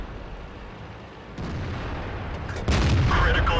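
Tank cannon shots boom in World of Tanks as fire rains on an AMX 50 100, with two heavy blasts stepping up in loudness against a steady rumbling battlefield background.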